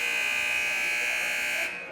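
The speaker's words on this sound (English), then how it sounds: "The buzzer will sound." A basketball game buzzer sounds during a girls high school game, a loud, steady electronic tone held for nearly two seconds and then cut off, with faint talk beneath it.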